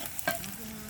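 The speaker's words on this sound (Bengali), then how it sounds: "সামান্য একটু গোটা জিরা দিয়ে দিছি তেলানিতে" Whole cumin seeds hit hot oil, giving a brief, close sizzle with a small crackling pop at the start and a soft frying hiss that continues for under a second.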